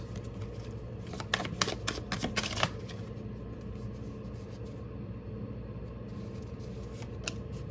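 Tarot cards being shuffled in a run of crisp riffling bursts during the first few seconds, then fainter scattered flicks over a steady low background hum, with no voices.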